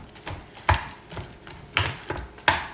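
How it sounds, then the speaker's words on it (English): Knife chopping ingredients for chocolate chip cookies on a cutting board, five sharp knocks spaced about half a second apart, close and fairly loud, alone without talk. "I hate that noise of the cutting board"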